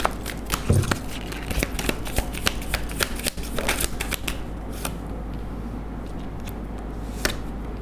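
A deck of tarot cards being shuffled close up, a continuous rapid riffle of papery flicks and slaps that thins out toward the end, with no talking over it.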